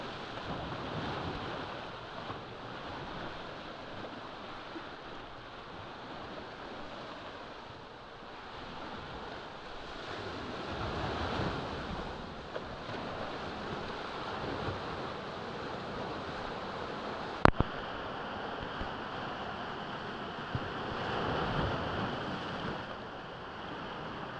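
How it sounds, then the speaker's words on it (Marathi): Sea waves along a rough coast where fishermen work, a steady broad wash of surf with faint wind, moderately distant and unbroken, with no voices over it. "रिअल आवाज जो आहे ना समुद्राचा तो तुम्हाला ऐकवतो"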